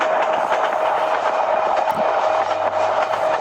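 A train in the Train Simulator Bangladesh video game runs at speed, a steady loud rumble of wheels on rails with a sustained engine hum and faint rhythmic clatter, no voices.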